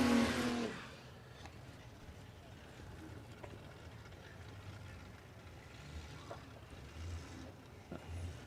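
A drag racing car at Warwick Dragfest during radial shootout qualifying opens with a loud, roaring engine burst, then drops back to a steady low rumble across the strip for the rest of the clip.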